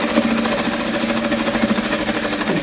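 A sewing machine stitching a beginner's patchwork block and backstitching at a seam, giving a fast, loud, steady mechanical whirring and rattling that continues without pause, close up and alone.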